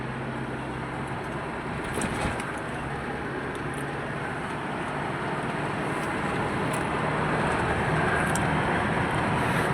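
A car drives along and gathers speed, its broad engine and road roar steady throughout and growing slightly louder toward the end, with no voices.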